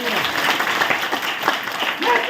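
A church congregation claps together during a pastor's lively sermon, the clapping fairly loud and mixed with the preacher's voice.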